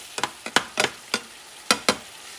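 Ground beef cooks in a pan on low heat, with a series of about eight sharp, close stirring scrapes and clatters over a soft, quiet sizzle, and no voices.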